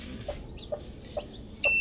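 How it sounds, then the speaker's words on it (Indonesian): A hen that had been nesting on a house roof gives four short, soft clucks at an even pace, close by and quiet, with some faint background noise. "Ayam yang kemarin nangkrem di atas"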